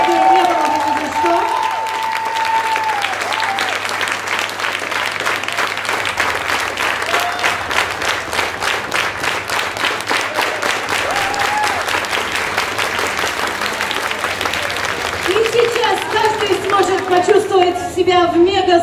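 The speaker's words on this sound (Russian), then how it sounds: "И отдельные огромные аплодисменты большому джазовому оркестру" A big crowd at a swing dance competition's final jam applauds the big jazz orchestra, a long, dense, steady roar of clapping with cheers and voices mixed in, loud and close throughout.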